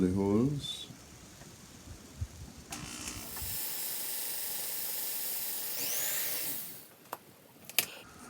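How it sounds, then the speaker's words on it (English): A small drill whirs in short bursts while holes are bored into a model ship railing, with faint clicks and handling noises between runs, close and fairly quiet. "drill the holes."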